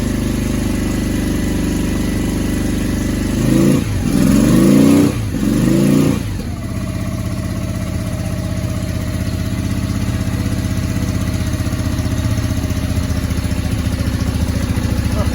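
Honda VRX400 (Steed) motorcycle engine running after a carburettor rebuild, a steady close idle with a brief rev around the middle, then settling back to a low even drone.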